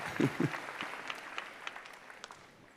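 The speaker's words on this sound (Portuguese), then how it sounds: "Pode aplaudir ao Senhor" A church congregation claps at a Portuguese-language service: a few firm claps up front, then scattered, thinning applause fading quickly into quiet.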